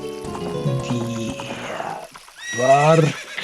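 A horse neighing while being ridden in the video game Ocarina of Time, with hoof clip-clop and game sounds leading into a loud, clear whinny near the end.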